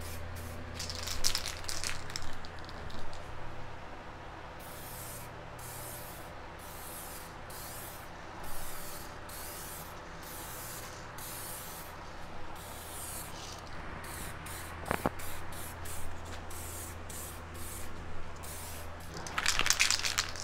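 Spray gun laying clear coat on motorcycle fairings in repeated hissing bursts of varying length, close and fairly quiet, with short pauses between passes.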